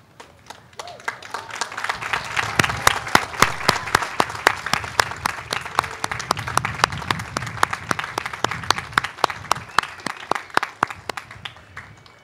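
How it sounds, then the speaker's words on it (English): A crowd at a university commencement ceremony breaks into applause, starting softly and swelling into a broad roll of clapping, with many sharp individual claps standing out before it tapers off. "I want you to give him a big thank you round of applause."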